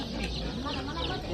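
Chickens clucking at a poultry market in Navoiy, a dense continuous chatter of hens close by, with voices mixed in.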